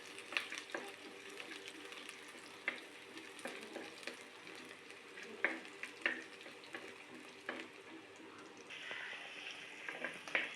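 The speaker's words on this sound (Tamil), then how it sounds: "இந்த வெங்காயம்லாம் நல்லா வதங்கிடுச்சு" Onions, garlic and dried chillies frying in a pan, a faint steady sizzle broken by sharp scraping clicks as the spoon stirs now and then, with no talking.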